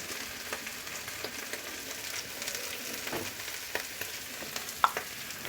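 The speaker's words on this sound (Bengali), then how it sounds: "এটাকে আমি ভালোভাবে মিশিয়ে আমি এটাকে ভেজে নিচ্ছি।" Boiled baby potatoes fry in a pan with salt and turmeric, giving a soft, steady sizzle with faint scrapes and taps of stirring now and then, quiet and close.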